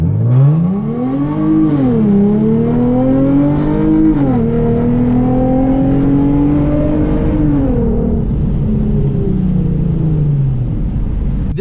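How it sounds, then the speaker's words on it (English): Hyundai Genesis Coupe accelerating hard from 0 to 60 in sport mode, the engine note rising loudly through several gear changes, dipping briefly at each shift before climbing again, then easing off near the end. "sport mode 0 to 60,"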